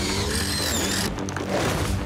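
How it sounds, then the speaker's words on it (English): A brief buzzing, whirring mechanical effect, like a small power tool running, loud and continuous for a couple of seconds. "The pizza making with this sound effect is weird."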